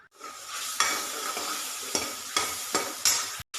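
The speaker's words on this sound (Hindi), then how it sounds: "यहाँ लग गया है मेरी दाल की तड़का" A loud, steady sizzle of spices hitting hot oil in a pan, with a few sharp clicks of a utensil stirring against the metal.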